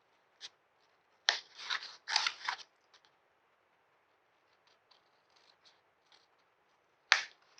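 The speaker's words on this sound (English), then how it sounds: "At this point, I can cut these off." Scissors snipping off paper pieces while building a chipboard book, a few crisp close cuts in quick clusters separated by quiet pauses, with no talking.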